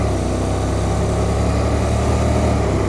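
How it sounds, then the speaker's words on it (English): A steady, loud engine rumble with a deep low drone from a Honda NC750X DCT motorcycle exhaust running continuously on a wet road, with no talking. "Hopefully you can hear the exhaust."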